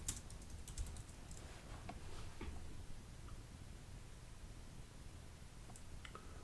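Quiet typing on a computer keyboard, steady soft key clicks over a low background hum, with no voices.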